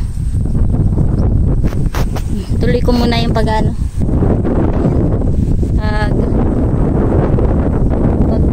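Strong wind on a yardlong bean farm, buffeting the microphone in heavy continuous gusts, loud and close, while someone speaks briefly over it in the middle.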